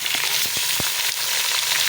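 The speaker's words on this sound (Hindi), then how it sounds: "गोश्त को हम अच्छी तरह भूनते हैं।" Mutton pieces frying over browned onions in a pot give a steady broadband sizzle, broken by a few sharp knocks from stirring, all close and without any talk.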